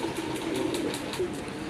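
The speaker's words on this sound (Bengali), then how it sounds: "আকাশি কালার রাজগোল্লা কবুতর" Sky-blue Raj Golla pigeons give soft, low cooing and brief wing flutters, fairly faint and steady against a constant background hiss.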